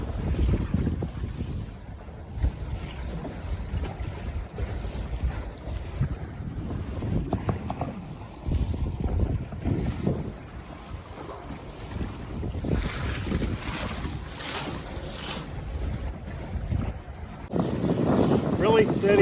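Steady wind rushes past the microphone on a Buccaneer 18 sailboat, with low gusting rumble and water wash that swell and fade over a long stretch, and a voice talks intermittently.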